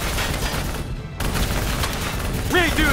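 Call of Duty Black Ops 3 combat: dense, continuous rapid gunfire and booms close up, with a shouted voice over the fusillade near the end.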